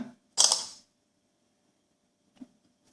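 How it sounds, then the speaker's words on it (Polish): A Samsung Galaxy S4 camera takes a photo: one crisp, close shutter-click sound, followed by a faint, brief tick in otherwise quiet surroundings. "zdjęcie zostało zrobione za pomocą właśnie tego aparatu"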